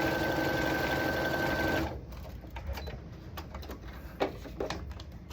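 A sewing machine stitches a fabric strip for a quilt block with a steady, fast mechanical whir for a couple of seconds, then stops, leaving soft handling clicks and rustles.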